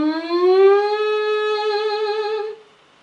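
A singer's warm-up siren: one sustained vocal glide that rises slightly and holds a rich harmonic tone for about two and a half seconds before stopping, close and fairly loud, with no accompaniment.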